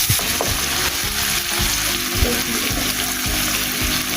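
Ingredients for a white korma fry in a pan, giving a loud, steady, close sizzle throughout, with scraping and stirring sounds woven through it and no talking.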